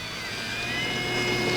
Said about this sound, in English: this plane is more than capable of doing a takeoff on the grass